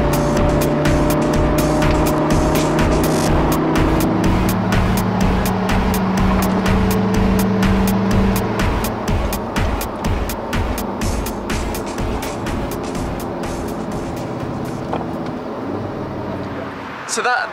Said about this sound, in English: get back in the car and keep driving through Austria